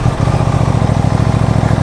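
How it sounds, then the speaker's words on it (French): An Aprilia RS 660 sport motorcycle idling just after starting, a loud, close, rapid even engine pulse that holds steady throughout. "Petit démarrage pour voir ce que ça donne au niveau de la sonorité."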